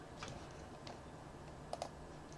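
Soft, quiet keyboard typing as someone enters a search on YouTube: a few scattered light key clicks with a small double tap near the end, over faint room noise and no talk.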